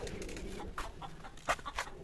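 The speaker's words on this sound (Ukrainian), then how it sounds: "О, курка, чи вона на вулиці оказалася, не знаю" Chicken clucking somewhere outdoors on a frosty winter day, a few short, moderately loud clucks in the second half over a steady background hiss.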